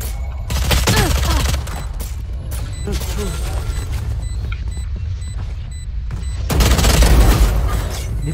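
Bursts of rapid gunfire crack through a competitive Valorant match, loudest near the start and again toward the end, with steady game ambience and occasional voices between.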